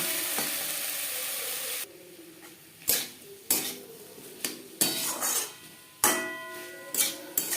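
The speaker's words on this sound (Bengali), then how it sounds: "গাজরের সাথে টমেটো বেশ ভালো করে মিক্স করে দেবো মিডিয়াম ফ্লেমে চার পাঁচ মিনিট রান্না করে নেব" Carrots and tomato being stirred in a pan over a medium flame for a carrot chutney: sharp clinks and scrapes of a utensil against the pan over a soft sizzle, repeating at an uneven pace.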